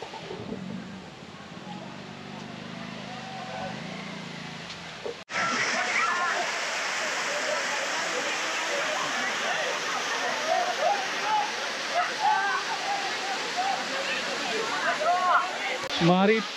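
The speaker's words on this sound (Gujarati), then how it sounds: "પાછળ જે જોઈ રહ્યા છો એ છે પાણિયારી ધોધ" Paniyari waterfall, a forest falls near an ashram and a lakeside trail, is heard as a steady, loud rush of falling and splashing water. It starts faint and swells sharply after a few seconds, then holds close and continuous.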